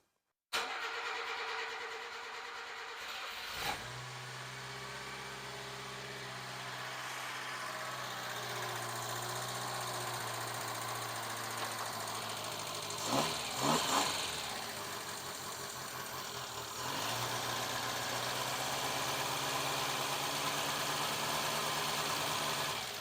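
A Subaru Sambar engine with its fuel pump just reconnected cranks and fires, then settles into a steady, fairly loud idle with a brief stumble partway through, recorded close by with no talking.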